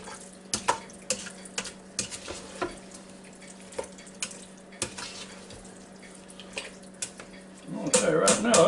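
A spoon stirring turkey vegetable soup in a Ninja Foodi Deluxe pot, a series of light scrapes and knocks against the pot over a low steady hum, ending in a louder swirl of liquid.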